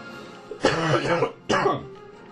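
Two harsh, close coughs from a lingering illness, one longer burst followed by a shorter one after a brief pause, loud and alone.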